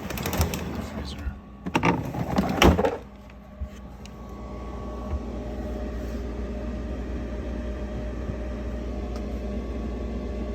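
The fridge and freezer doors of a Maytag MFT2574DEM01 refrigerator are opened with a few clunks and rattling bursts, then the appliance settles into a steady, quiet running hum.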